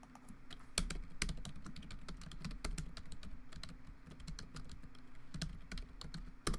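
Clicking keystrokes on a computer keyboard as a web link is typed, irregular bursts of close, crisp taps with short pauses, heard alone over a low steady room hum.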